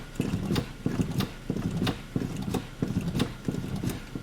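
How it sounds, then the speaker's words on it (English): Brake pedal pumped repeatedly on a 2008 Mazda 3, a regular series of mechanical thumps and creaks, roughly six strokes in steady rhythm, close and moderately loud with no talking. "So now I'm gonna pump the brake pedal"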